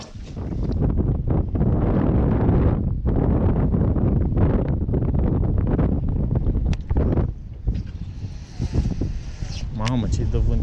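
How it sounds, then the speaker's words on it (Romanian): Strong wind buffets the microphone aboard a boat on open water, loud and gusty, with heavy rumbling bursts and brief lulls, and a voice speaking under it. "Mamă, ce-i dă vântul aici."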